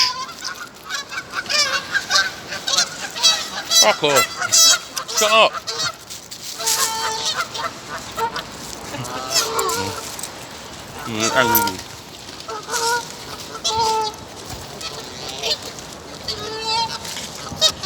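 Wild geese honking repeatedly in Reading, loud and close, with bursts of harsh calls throughout while a person shouts and talks over them.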